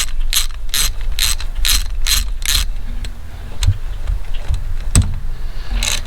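A ratchet tightens thermostat housing bolts on a Willys Jeep L-134 engine in bursts of rapid, close clicking, followed by a few isolated sharp metallic clacks and thumps.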